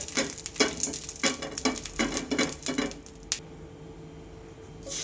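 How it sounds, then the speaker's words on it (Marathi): Batter hitting an oiled pan for a quick breakfast dish, with a run of short sizzling bursts and scraping stirs in quick succession, then fading to a quiet hiss. "असं बॅटर टाकून घ्यायचं"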